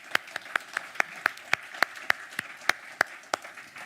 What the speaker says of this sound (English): I hope you can hear the applause and see people clapping.